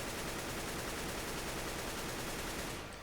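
AK-47 firing a rapid continuous burst in the game Counter-Strike: Global Offensive, dense rattling automatic gunfire that holds steady for about three seconds before cutting off.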